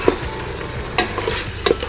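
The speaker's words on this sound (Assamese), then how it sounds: "মই ভালকৈ লৰাই দিম।" Chicken and potatoes being stirred in a frying pan during Assamese home cooking: steady sizzling broken by a few sharp scraping strokes of the spoon, close and fairly loud, with no talking.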